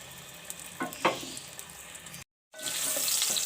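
Onion frying in oil in a pan, a soft sizzle broken by a few scraping stirs, then a brief gap before the hiss returns louder and steadier.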